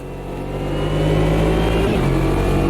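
A racing car engine in Automobilista 2 revs up, its tone climbing and swelling into a loud, sustained whine that holds steady with no talk.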